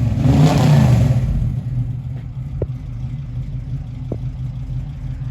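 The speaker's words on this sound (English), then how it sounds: "Got the LS Monte fresh motor. Small block with a whole lot of goodies." A Chevrolet Monte Carlo with a fresh LS small-block V8 revs loudly up close, then falls back to a rough, lumpy idle with a couple of faint clicks.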